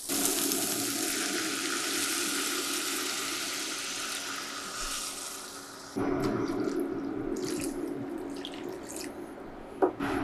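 Water pours steadily into a pan of dirty rice, a continuous splashing rush that changes tone midway as the level rises, followed by lighter stirring and a small clink.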